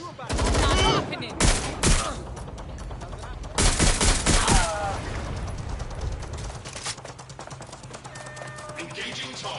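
Bursts of gunfire crack through a Watch Dogs shootout, loud rapid volleys in the first half and then trailing into scattered shots, with voices talking between and over the firing.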